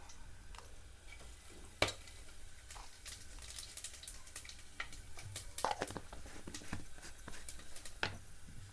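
Cardamom, cloves, cinnamon and a generous amount of cumin frying in oil in a pan for jeera rice, a soft steady sizzle with occasional sharp ticks and pops from stirring.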